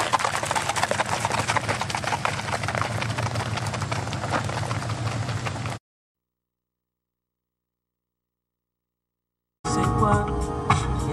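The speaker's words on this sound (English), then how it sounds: "Three good looking horses." Horses clip-clop along with steady, rapid hoofbeats amid outdoor noise, then a few seconds of silence before the hooves and commotion resume.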